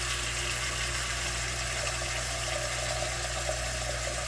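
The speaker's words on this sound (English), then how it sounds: "we'll add the water until it comes up about halfway up on the" Water pours steadily into a canner set up as a water bath for blanching peas, a continuous rushing fill with a low hum beneath it, near and unbroken, with no talking.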